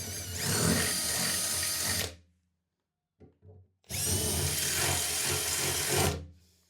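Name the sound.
power drill enlarging holes in van metal for rivets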